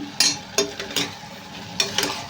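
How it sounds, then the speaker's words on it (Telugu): Brinjal and drumstick curry frying in a pan, a soft steady sizzle broken by a few sharp scrapes and clinks of a stirring spoon, close and without voices. "వంకాయ అనేది మెత్తపడే వరకు ఫ్రై చేసుకోవాలి"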